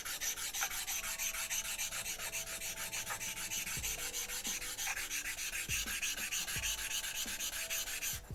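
Suehiro Nagura stone rubbed across a 5000 grit whetstone, a steady close gritty rasping scrape that runs continuously with a few soft knocks, no voices.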